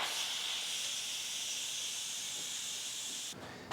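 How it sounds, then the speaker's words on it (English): Steam hisses steadily from the vent of an Instant Pot pressure cooker, partly covered by a cloth, while dinner with collard greens is made; a loud, continuous rushing hiss holds for several seconds, then cuts off abruptly near the end. "Now, I need to release the steam."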